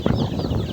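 Chickens cluck in a quick, close burst on a mountainside farm in the Philippines, short throaty notes alone over a low background hum.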